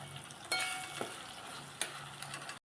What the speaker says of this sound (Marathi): आता मी पाच सहा मिनटं मसाला छान भाजून घेते